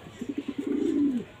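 A gamefowl of the Lagalag line gives a short rhythmic series of low coos that run into one longer drawn-out call. The bird is close and fairly quiet, with no voices.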